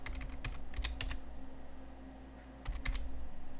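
Computer keyboard keys tapped to enter a password on a Debian 13 server, two quick bursts of clicky keystrokes separated by a pause, close and fairly quiet over a steady machine hum.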